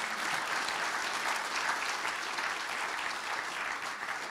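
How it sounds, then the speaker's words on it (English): An audience at a Hagerstown State of the City chamber event applauds in a steady, dense wash of clapping that holds evenly throughout without any voices. "Some applause."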